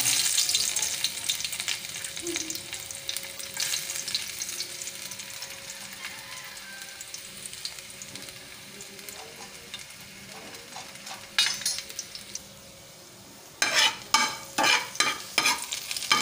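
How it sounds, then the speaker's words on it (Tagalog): Garlic sautés in a pan with a continuous soft sizzle and scraping stirs, growing quieter midway before a run of sharp utensil clatters near the end, close with no speech. "Pag nagigisa ako, inuuna ko yung bawang."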